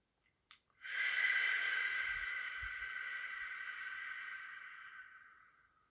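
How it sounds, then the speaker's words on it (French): Long, deep breath drawn and released during a guided meditation, a steady airy rush that swells quickly, holds and slowly fades over several seconds, close and alone with no talking. "Comme ça fait beaucoup de bien, on le fait une dernière fois. On inspire."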